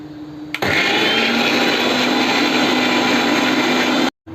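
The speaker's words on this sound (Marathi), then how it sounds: "तोपर्यंत मी मिक्सर लावून घेते" A kitchen mixer grinder spins up with a sharp start and runs at a loud, steady whirring roar while blending a spice paste for Malvani fish-style masala, then cuts off abruptly near the end.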